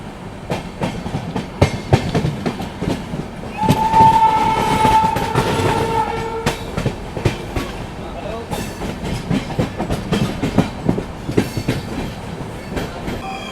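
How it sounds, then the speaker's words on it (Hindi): A special AC train pulls into Danapur railway station: rolling clatter of wheels over rail joints, with a horn blast in the middle, heard up close on the platform amid ambient noise. "यहाँ पर अभी कुछ ही समय में अपनी स्पेशल ट्रेन पहुँचने वाली है दानापुर रेलवे स्टेशन पर"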